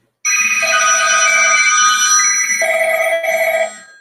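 A mobile phone rings with a loud, close electronic ringtone in repeating melodic phrases, and the ringing stops abruptly near the end.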